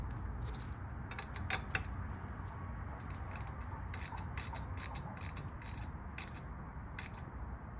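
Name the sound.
ratchet tightening grease fittings on Tahoe control arm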